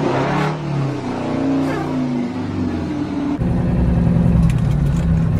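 A large truck engine, a Mack Maxidyne EB71, revs hard and rumbles loudly, rising and falling, then settles into a steady, rough idle with some clatter.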